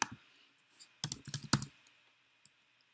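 Quiet computer keyboard typing, a short cluster of several soft key clicks in close succession followed by a few isolated taps, near and faint against an otherwise quiet background.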